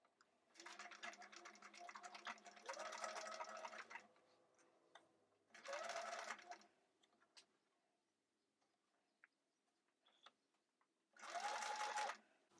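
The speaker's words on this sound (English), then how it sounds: "I'm going to put my needle in the down position so that I can pivot my curve as I sew." A sewing machine stitches jumpsuit pattern pieces in three separate bursts of steady, rapid mechanical whirring, each stopping and starting with quiet pauses and small handling clicks between.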